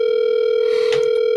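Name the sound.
telephone dial tone while calling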